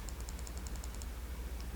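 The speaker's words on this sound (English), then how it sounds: "So we're just typing EGR" Typing on a computer keyboard, about a dozen quick evenly spaced key clicks in a short burst followed by one more tap, close but faint over a steady background hum.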